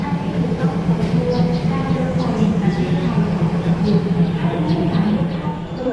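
A train at Ayutthaya railway station in Thailand rumbles steadily at close range, a low continuous hum with faint metallic clicks, while a person talks over it.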